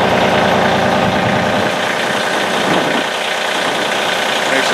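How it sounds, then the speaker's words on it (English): John Deere 2520 compact tractor idling outdoors in snowy winter conditions, a steady close rumbling engine with a faint knocking texture, running alone without talk throughout. "There's the tractor."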